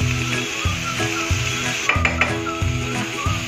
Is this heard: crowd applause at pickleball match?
no